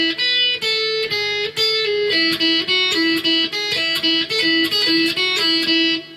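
A guitar plays a riff at a very slow tempo. Clear, ringing single notes are picked one after another in a steady, even rhythm, with no voices.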